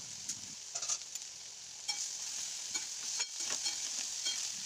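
Brinjal pieces frying in mustard oil with five-spice seeds and dried and green chillies, a steady close sizzle with stirring clinks and scrapes throughout.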